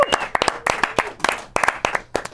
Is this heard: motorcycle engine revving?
no